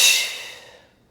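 A single sharp, breathy exhale during a standing mat Pilates class, close and fairly loud, a hissing puff of air that fades away over about a second.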